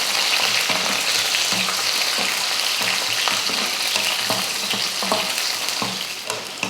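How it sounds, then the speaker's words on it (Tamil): Shallots and garlic with fenugreek sauté in hot oil for a Tamil curry-leaf kulambu, a steady close sizzle broken by frequent scraping stirs of the spoon against the pan. "போட்டுட்டு நல்லா வதக்கிடலாம்."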